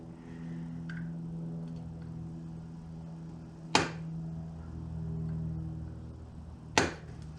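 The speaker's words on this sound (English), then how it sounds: "one of the last things I'm going to have to do is re-peen this thing" A nut on the front sprocket of a WR250R motorcycle is re-peened with two sharp metallic hammer strikes, spaced about three seconds apart, over a steady low hum in a quiet workshop.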